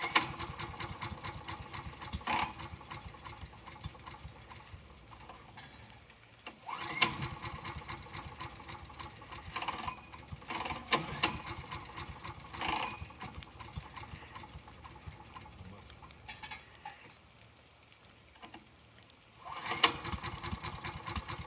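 A Landworks LCE06 3-in-1 wood chipper shredder runs with a steady mechanical whir and rattle, and its motor surges in louder bursts every few seconds as it starts up.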